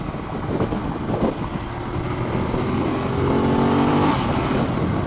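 A Ducati Monster motorcycle accelerates on the road, its engine note rising steadily over constant wind and road rush, heard from the rider's position without talk.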